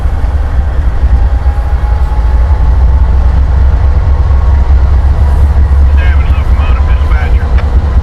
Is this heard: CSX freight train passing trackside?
yes